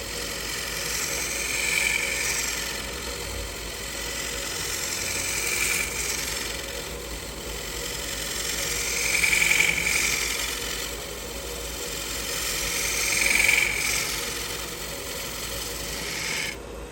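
Wood lathe turning slowly as a bowl gouge rolls beads on a bowl, a steady mechanical hum with a soft scraping cut that swells and fades in slow repeating waves, about every four seconds.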